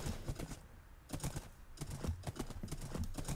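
Quick, close clip-clop of video game horse hooves in an uneven trotting rhythm, soft and dry, continuing throughout with no voices.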